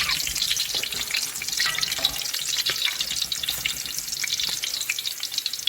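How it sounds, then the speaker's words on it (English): Ginger sizzles steadily in hot oil while being stirred back and forth, a dense crackling hiss with occasional scraping of the utensil, close and continuous without talk. "Flavor the ginger going into the oil. Stirring it back and forth."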